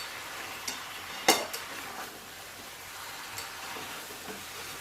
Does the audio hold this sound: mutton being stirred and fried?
yes